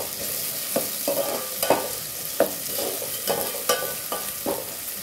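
Chicken curry frying in a pan with tomatoes, stirred by hand: a soft steady sizzle broken by repeated close scraping stirs at an uneven rhythm, with no talking.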